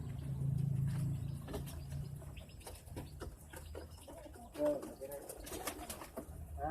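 Soft low coos from a pigeon nearby, with a person speaking over part of it and faint handling noises.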